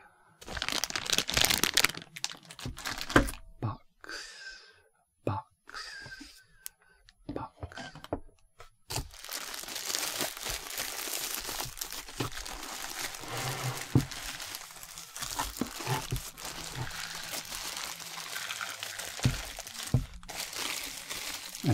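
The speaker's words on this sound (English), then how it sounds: "I love these soft plastic bags with a very nice crinkly sound to them." Soft plastic bags crinkle and crunch as a Neato robotic vacuum is unboxed, with close, detailed rustling after a stretch of quiet whispering.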